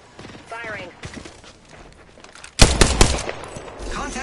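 Gunfire in a video game: a tight cluster of loud, sharp shots partway through, after quieter game effects, with a voice speaking briefly at the start and end.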